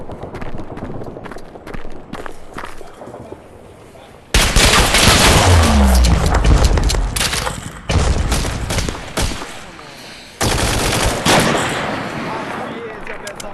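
Heavy MG4 machine gun fire in a close-quarters video game battle, loud sustained bursts breaking off and resuming several times, with distant rumbling gunfire in between.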